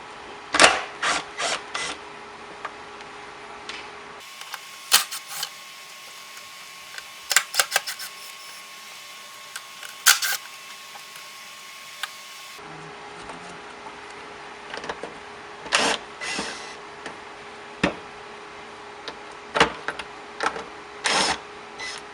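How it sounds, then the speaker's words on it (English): Small screws being backed out of a Subaru headlight housing, giving scattered light mechanical clicks and ticks of a screwdriver working plastic, close and fairly quiet, with no talking. "Take out all the perimeter screws."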